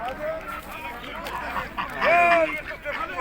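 Ducks quack at a busy poultry market in Sungurlu, a short burst standing out midway amid crowd noise and people talking nearby.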